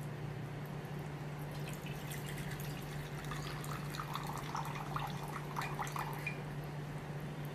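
Water is poured over sabudana (tapioca pearls) and drained off while they are rinsed, giving a soft, steady splashing and trickling over a constant low electrical hum, with no talk.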